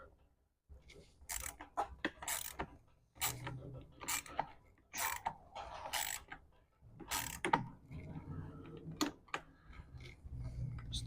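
Ratchet clicking as screws are tightened on a steering wheel being installed in a 2007 Ford Mustang GT, bursts of rapid mechanical clicks in repeated short runs with brief pauses, close and fairly loud.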